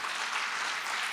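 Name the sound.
congregation applause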